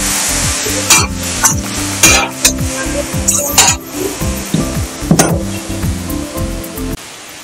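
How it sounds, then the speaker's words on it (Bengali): Egg masala ingredients stirred and sautéed together in a pan, with a loud, continuous sizzle broken by repeated scraping and clinking of a utensil against the metal, close by and alone. "আবারও আমি খুব ভালো করে সব উপকরণগুলো একসাথে কষিয়ে নেব।"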